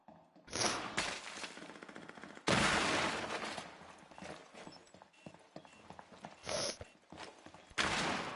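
Gunfire in Rainbow Six Siege: sharp bursts of shots and impacts come in uneven clusters, several loud blasts standing out against ongoing mechanical clatter and rattling, with no talk.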